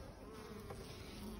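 Honeybees from a healthy colony buzzing densely at a hive entrance, a steady close hum of many wings, faint and continuous with no voices.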